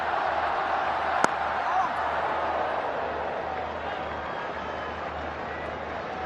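A cricket stadium crowd at an HBL PSL match between Lahore Qalandars and Peshawar Zalmi gives off a steady, distant roar, with one sharp knock near the start.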